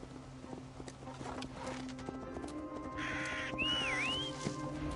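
Crows cawing in Assassin's Creed Valhalla, a couple of calls over steady game ambience with hoof clops and footsteps, the birds sounding mid-distance and clear.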